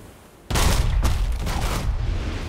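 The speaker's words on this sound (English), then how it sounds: "Ooh, he's got a front cannon." Ship cannons fire in the pirate naval battle game Unearned Bounty, a sudden loud blast opening into a dense rumbling barrage with several sharp cracks layered over sustained booming.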